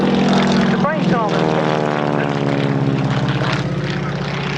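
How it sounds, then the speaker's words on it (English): A Stinson Gullwing monoplane's propeller engine drones loudly and steadily at the Woodchurch 2005 airshow, with a pitch sweep as it passes close by. "Immediately in front of you, the Stinson Gullwing."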